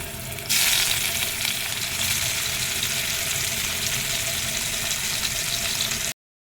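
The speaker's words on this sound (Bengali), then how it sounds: "এখানে আমি এখন মাছগুলো ভেজে নেব" Katla fish pieces sizzling in hot oil in a kadai, a loud sustained crackling fry that jumps up sharply as the fish goes in, then holds steady until an abrupt cutoff.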